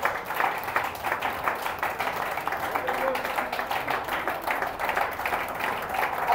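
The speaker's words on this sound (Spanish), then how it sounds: "Dale un aplauso a Jesús" Congregation applauding during a Spanish-language Sunday church service, a steady wash of many hands clapping that holds evenly throughout, moderately loud, with some vocal sounds mixed in.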